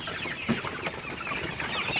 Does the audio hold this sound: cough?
no